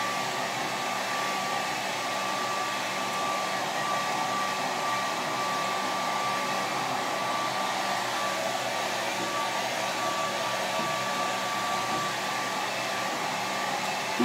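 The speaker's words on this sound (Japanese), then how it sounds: "でもこうやってドライヤーでやると" A hair dryer blows steadily while drying hair, a close, loud, even whooshing roar with a faint whine that runs unbroken throughout.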